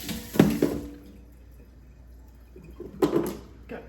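Freshly picked pumpkins with prickly stems being rinsed under water, two short splashing bursts of running water separated by a quiet pause, close by.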